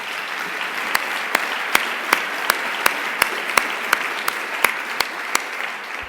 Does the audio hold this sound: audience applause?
yes